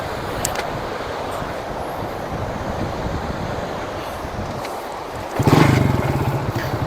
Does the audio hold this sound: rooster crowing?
no